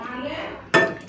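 Two sharp clinks of dishes ring out close by as thin masoor lentil dal is served into a bowl, following a soft, steady kitchen background.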